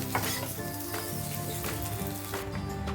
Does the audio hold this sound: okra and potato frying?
yes